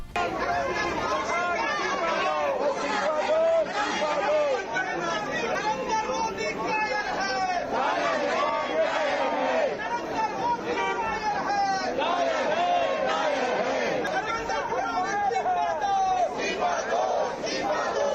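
Crowd of student protesters chanting slogans against the Indian prime minister, a dense continuous roar of many voices with rhythmic shouted phrases, loud and close throughout.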